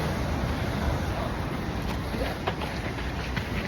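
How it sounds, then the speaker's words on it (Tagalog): Strong ocean waves surge along a seaside area, a continuous broad roar of rushing water and wind, heard fairly close and steady, with faint thuds and no clear voices. "Tapos yung alon niyan, lakas oh."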